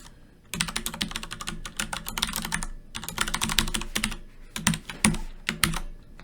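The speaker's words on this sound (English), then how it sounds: "Wow, I'm having a little trouble typing today." Fast bursts of clicking keys on a computer keyboard, typed in irregular runs with short pauses between, close and clear with no talking.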